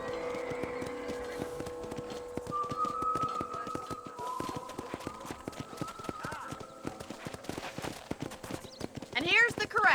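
Steady clip-clop of horse hooves in Red Dead Redemption, a regular rhythm of sharp hoofbeats at a ranch corral, with a faint tonal hum beneath and a brief voice near the end.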